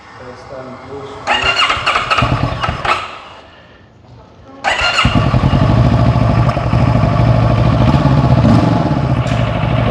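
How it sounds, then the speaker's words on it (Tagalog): A scooter engine in neutral cranks with a rough clattering burst, drops away, then fires and settles into a loud, steady close idle. "In neutral, let's start the engine."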